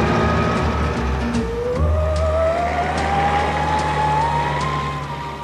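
A Reliant three-wheeler from 1950s Britain drives past with a steady engine drone, a gear change partway through and a rising tone as it pulls away, loud and close with no talk.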